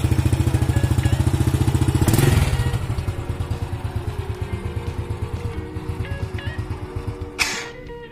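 A Honda Astrea Grand motorcycle from the early 1990s idles close by with a rapid, even single-cylinder putter, briefly revved once, then settling back into a steady throb with small clanks.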